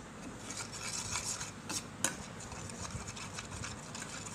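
Aloe vera gel face mask mixture with a few drops of rose water stirred in a small bowl, giving a soft steady scraping and clinking of a spoon against the dish, faint and continuous, with one brighter clink midway.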